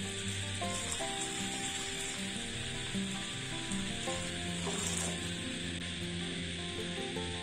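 One litre of milk goes into a hot pan of bottle gourd cooked with melted sugar for payesh, giving a steady, close hiss and sizzle that lasts throughout beneath soft background music.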